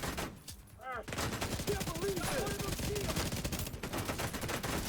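Rapid gunfire from sniper turrets in a video game, rattling in dense bursts almost without pause, loud and continuous with brief tonal sweeps and faint game effects mixed in.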